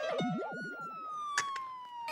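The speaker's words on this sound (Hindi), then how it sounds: "पुलिस के सायरन की आवाज आ रही है सुनो।" A police car siren wails in a rising and falling pattern at moderate distance, fairly faint, with a sharp click partway through and no talk over it.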